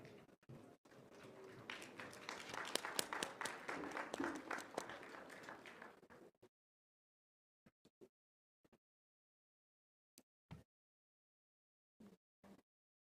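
An audience at a nursing graduation ceremony gives about six seconds of loud, steady applause that stops abruptly, followed by a few scattered isolated claps and taps in near silence.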